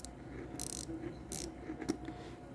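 A ratcheting wrench or small socket ratchet drive from a new tool set gives a few short metallic clicking bursts, close but fairly quiet, over a low background hum.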